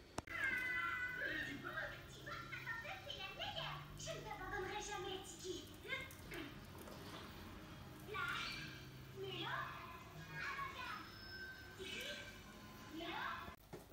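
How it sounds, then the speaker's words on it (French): A family's pet cat named Gaspard meows several times amid a busy home scene, the calls mixed in with children's and adults' chatter and household noise throughout. "Ah, il y a même le chat."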